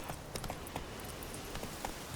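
Horse hooves clip-clop at a walking pace in The Witcher 3 Wild Hunt, an even, moderately faint rhythm of repeated hoof strikes over a soft background hum.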